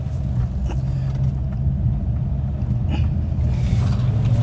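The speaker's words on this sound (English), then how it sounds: "Give you a bit more V8 burblage." Rover 3500S V8 engine burbling at low revs during a slow U-turn, a steady deep rumble close by with slight swells in throttle, no talking.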